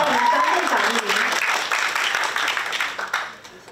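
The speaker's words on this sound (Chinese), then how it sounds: "把掌声给张县长" An audience applauds a county magistrate at an award presentation for a satisfaction survey in Yunlin, loud sustained clapping that gradually fades toward the end, with a voice talking over it.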